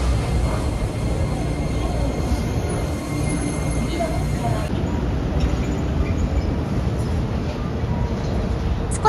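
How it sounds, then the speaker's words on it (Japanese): A Hiroden 5100 series tram in purple Sanfrecce Hiroshima wrap pulls in at Hiroshima Station, its low rolling rumble and faint wheel squeal running steadily throughout amid street noise. "到着した列車は5100型電車で、サンフレッチェ広島のラッピング電車でした。"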